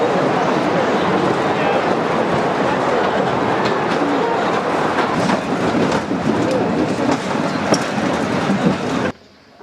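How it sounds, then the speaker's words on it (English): A train rumbles loudly and steadily past a station in the Blue Mountains, wheels clattering on the rails without pause, then cuts off abruptly near the end. "Please stand behind this line as the train is approaching"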